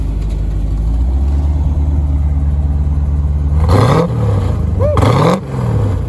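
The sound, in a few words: 1980s Corvette engine revving with aftermarket exhaust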